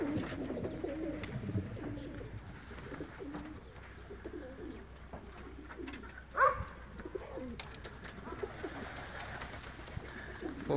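Racing pigeons coo softly and repeatedly inside a loft in Lithuania on a cold day. Low murmuring calls come from several birds, with one brief, sharper call partway through and faint rustling between.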